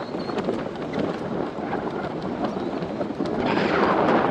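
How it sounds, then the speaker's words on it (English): Wind blowing outdoors beside a docked submarine and battleship, a loud, continuous rumbling buffet on the microphone that swells stronger toward the end. "It did get windy, so it might be a little loud right here."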